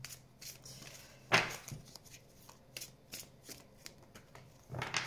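Tarot cards are shuffled up close in quiet surroundings, with a series of short riffling flicks and taps and a couple of louder bursts of shuffling.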